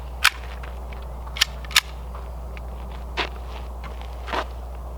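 Hi-Point pistol firing test rounds with a new magazine: a few sharp, loud reports spaced irregularly, with fainter clacks and softer thuds between them, outdoors with no talking.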